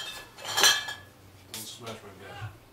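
Glasses clink together in a toast between two men, one bright clatter of glass near the start followed by quieter knocks and soft movement, with a sharp click at the very end.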